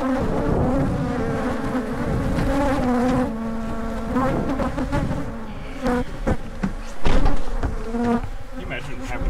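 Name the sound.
bees buzzing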